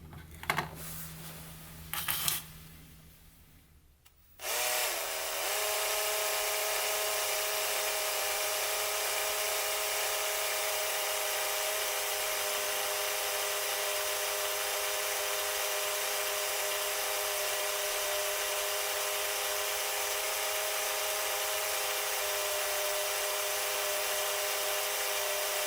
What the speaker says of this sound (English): I've spent hours trying to lap this intake valve